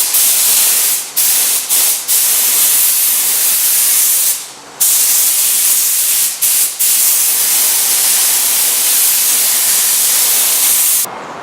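An aerosol can sprays primer onto lathe parts in long, steady hissing bursts separated by brief pauses, loud and close with no voices.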